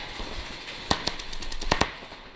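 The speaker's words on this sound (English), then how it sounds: "And here comes the gun battle, real quick." Paintball markers fire in a speedball game, sharp pops scattered in pairs and quick bursts against a steady outdoor background hiss, mid-distance and moderately loud.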